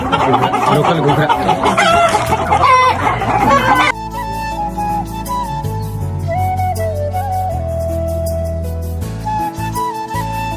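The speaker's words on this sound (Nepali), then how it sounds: "यसरी पालेको हुन्छ है लोकल कुखुरा है यो चाहिँ।" Local chickens on a farm, clucking steadily alongside a rooster's crow, loud and close throughout with a busy layered texture and a noisier burst in the first few seconds.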